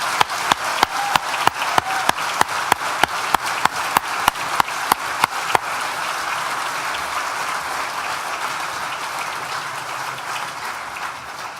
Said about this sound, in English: please join me once again for a big collective round of applause